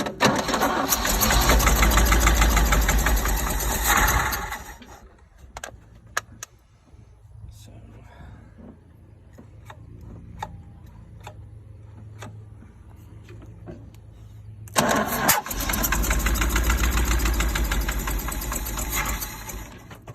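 A 1977 GMC 6500 truck's 366 big block engine, cold after twenty years: a loud rough running roar for about five seconds, a quieter stretch of clicks and low rumble, then the engine roaring again for the final five seconds.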